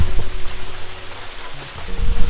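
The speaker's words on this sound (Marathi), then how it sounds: "पाऊस भरपूर आहे म्हणून आता रेनकोट घालावा लागला" Heavy rain pours steadily at a forest checkpoint on the trek to Tungareshwar, making a loud, dense wash of noise up close, with low rumbling patter throughout and no voices.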